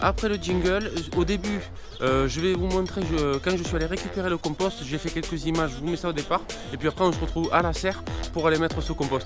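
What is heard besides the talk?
No everyday noise stands out behind the speech.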